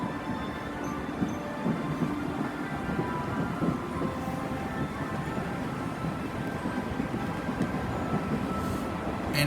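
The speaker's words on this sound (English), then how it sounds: "This is a G-scale train track with LGB train running underneath." LGB G-scale model train running on a track beneath an ice sculpture display, a steady rumbling clatter of wheels and motor that continues at a constant level throughout, with a busy indoor crowd murmuring in the background.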